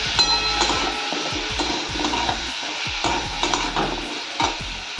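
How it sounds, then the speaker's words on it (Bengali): Pumpkin pieces frying in a pan with onion, dry chilli and black cumin, giving a steady close sizzle broken by repeated scrapes and clatters of stirring, with no voices. "শুকনো লঙ্কা পেঁয়াজ দিয়ে ভাজলাম। এবার কুমড়োগুলো দেবো।"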